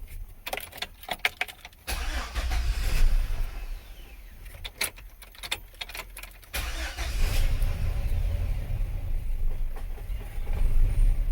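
A car engine cranks and catches after a dead battery, then settles into a steady low idle rumble, close and loud, with some clicking and rattling before it starts.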